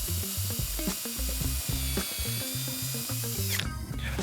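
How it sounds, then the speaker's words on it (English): A power drill with a counterbore bit bores through a Trex composite decking board, a loud whirring grind that pulses and judders as the bit bites, then eases near the end. "You drill through the board."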